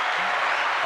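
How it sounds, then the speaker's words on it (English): Crowd applause at a comedy show bursts out after the audience is asked for a round of applause, a steady dense wash of clapping throughout the short moment. "Can we get a round of applause?"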